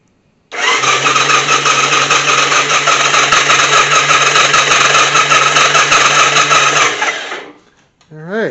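A Victory V92C motorcycle engine cranks over on the starter for about six and a half seconds. It is a loud, even, whirring churn close up that then stops, followed by a brief voice.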